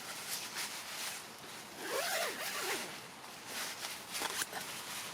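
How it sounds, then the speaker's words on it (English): A Vango Equinox 350 tent door zipper is pulled steadily closed along a long run, a close rasping sweep with a short tug near the end, against faint background noise. "if my son zips that back up again"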